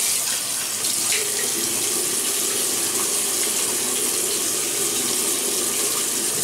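Tap water runs steadily into a sink for wetting the face before a shave, a close, constant splashing gush with no speech.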